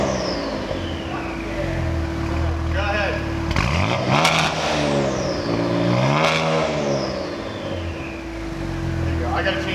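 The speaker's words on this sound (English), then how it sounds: "That limiter in park, it's at" A Cadillac ATS-V engine in park revs repeatedly into its rev limiter in loud exhaust mode, rising and falling through several blips with a steady whine underneath, while people talk nearby.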